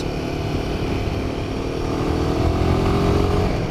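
A Royal Enfield Himalayan 450 motorcycle cruises along with a steady, continuous engine drone and road rumble, loud and close, holding an even tone without pauses.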